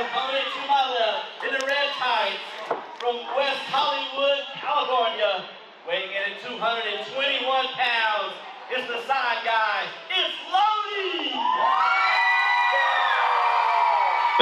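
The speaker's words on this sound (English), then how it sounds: "Once again, Peterbilt getting that mixed reaction from the crowd there." Mixed crowd reaction at a live wrestling show in Union, South Carolina, with cheers, whoops and boos rising and falling in waves throughout, swelling into a sustained roar near the end.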